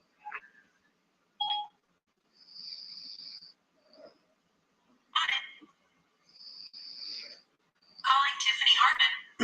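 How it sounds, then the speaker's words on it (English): A phone call placed by voice assistant plays several short electronic tones and dial beeps separated by silences, fairly close and clear, with bursts of speech mixed in toward the end. "Hey, Siri, call that mean old Tiffany Hartman girl"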